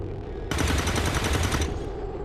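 Burst of rapid automatic gunfire in the alien-combat strategy game XCOM 2, loud and sustained for about a second amid steady game ambience, with no talking.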